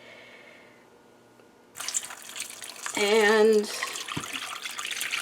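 Homemade butternut squash soup broth is poured into a pot, a close, steady liquid splash starting abruptly and continuing to the end, with a brief gurgling surge partway through.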